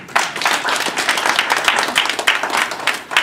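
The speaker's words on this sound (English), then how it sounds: "I'd like you to give Pastor McCulley a round of applause." Lively audience applause at a speaking event at George Brown College in Toronto, with distinct individual claps standing out from the crowd, loud and sustained throughout.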